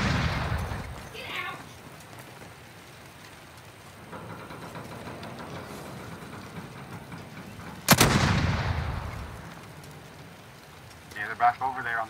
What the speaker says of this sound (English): These motherfuckers are explosive sniper rounds that I got.